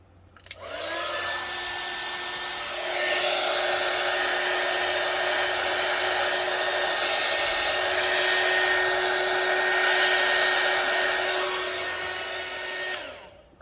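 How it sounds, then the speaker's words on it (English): A heat gun blows with a loud, steady whooshing roar and a whining motor tone, running continuously for several seconds before switching off. "so I'm going to use my heat gun"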